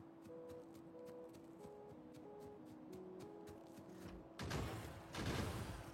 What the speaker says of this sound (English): I do like the gun sounds though of the turrets.